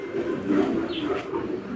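A pigeon coos nearby, a steady low throaty murmur that rolls on without pause and stands clear of any talk.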